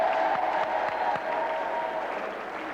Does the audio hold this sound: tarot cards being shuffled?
no